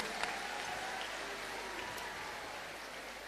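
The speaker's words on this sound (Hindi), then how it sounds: "इनको जोरदार ताली बजा करके धन्यवाद दो" Audience clapping in thanks for a family performing a havan ceremony: a dense, even wash of applause, moderately loud and steady, continuing for the whole stretch.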